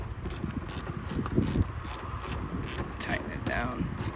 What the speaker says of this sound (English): I'm gonna tighten down my 10mm on the side.